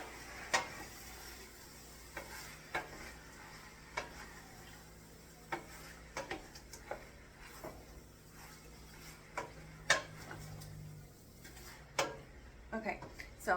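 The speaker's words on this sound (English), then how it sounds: "I'm just going to mix it up really well" Diced chicken breast being stirred in a stock pot, giving soft, scattered scraping and knocking of a spoon against the pot over a low, steady background, with quiet, irregular clinks.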